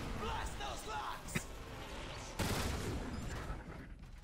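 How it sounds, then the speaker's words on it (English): Gunfire blasting power locks in the Transformers: War for Cybertron game, a dense burst of loud shots at close range, with a sharp crack near the middle and a heavier volley toward the end. "Blast those locks."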